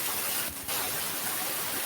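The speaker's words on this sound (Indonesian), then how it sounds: "Mungkin itu tempatnya lagi hujan." Rain at a participant's location, coming through an online call microphone as a steady, loud, even hiss with one short dip partway through.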